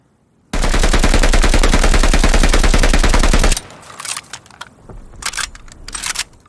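The STG 44 Vampir conversion in Call of Duty Vanguard fires one loud, rapid, continuous automatic burst lasting about three seconds, followed by scattered softer clicks and rattles of the weapon.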